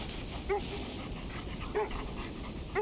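Dogs in the video game Kona II: Brume whimper and whine in short, high-pitched cries that recur about three times over a low background hum.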